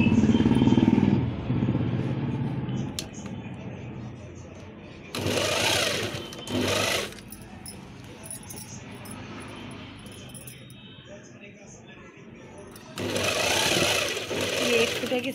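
A sewing machine stitching a belt onto a lehenga runs in loud bursts of rapid mechanical whirring, with quieter stretches between runs where a voice talks.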